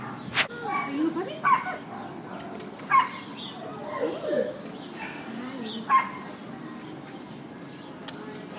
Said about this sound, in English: Are you a puppy?